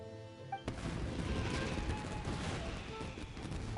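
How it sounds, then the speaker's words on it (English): Fireworks bursting in Genshin Impact, a loud crack after a quiet start followed by a dense, continuous barrage of crackling explosions that stays loud to the end. "Yoimiya, this is turning into a bit of a fireworks display"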